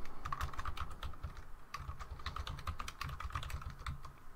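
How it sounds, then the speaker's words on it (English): Someone types steadily on a computer keyboard, a quiet, close run of rapid key clicks in short bursts with brief pauses between them. "I'll type in some text into that title bar."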